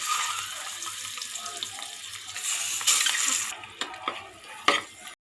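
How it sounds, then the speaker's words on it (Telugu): Eggs stirred in hot oil spiced with chilli powder, turmeric and salt in a pressure cooker pan: a steady close hiss and sizzle with scraping stir strokes, a few sharp clinks of the utensil near the end. "ఇప్పుడు ఇందులోకి ఎగ్స్ని యాడ్ చేసుకోవాలి"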